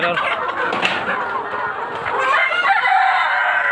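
Several roosters in a partitioned poultry pen crow and cluck loudly and close together, their calls overlapping in a continuous, busy chorus.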